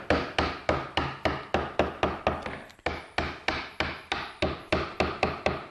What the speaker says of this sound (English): This is a number 7, which allows me to clean the wood away rather rapidly.